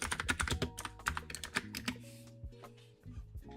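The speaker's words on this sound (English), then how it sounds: "I hate this freaking keyboard sometimes." Rapid clattering keystrokes on a computer keyboard, loud and close, in uneven bursts with brief pauses and a steady background hum, no talking.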